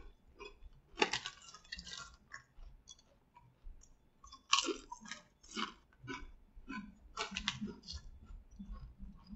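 Crunchy Flamin' Hot Cool Ranch Doritos chips being chewed close up, several sharp crunching bites with quieter mouth clicks between them, no talking.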